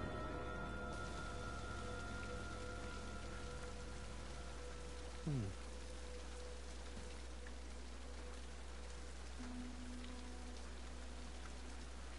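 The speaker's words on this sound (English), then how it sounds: "All this rain should help this tree grow." Rain falls steadily in the King's Quest Chapter 2 video game, a soft even hiss running throughout under faint sustained music tones, with a brief rising sweep midway.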